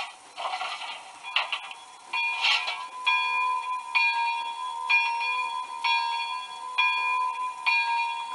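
Bell effect from a TCS WOW model train sound decoder, clanging in a steady repeating rhythm of bright metallic strikes about once per second, loud and close with no talk over it.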